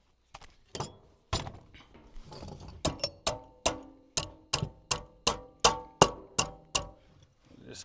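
Hammer blows beating parts of a Briggs and Stratton small engine together, a run of sharp metallic strikes that starts loose and settles into a steady, evenly spaced rhythm of about a dozen close, loud knocks.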